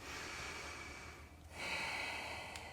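A single deep yoga breath in triangle pose, a long airy exhale followed by a sharper nasal intake, close and quiet.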